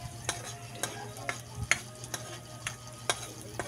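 Garlic sautés in a pan over a wood fire, a quiet sizzle punctuated by sharp, regular scrapes and taps of a utensil stirring every half second or so, with a low hum underneath.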